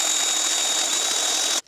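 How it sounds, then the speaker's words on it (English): A small electric drill whirs in one steady high-pitched burst while cleaning electrical contacts on a Honda CBF 125 motorcycle under rebuild, then cuts off abruptly near the end; no talking. "I'm just using my spinny drill, so I'm going to clean up all of these"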